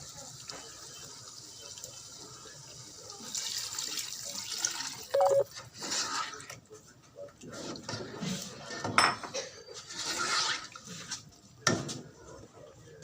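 Water goes into a pot of chicken haleem with dal and green chillies, heard as faint splashes and drips, soft metallic clinks of the pot and utensils, and a few louder splashy bursts against a quiet kitchen.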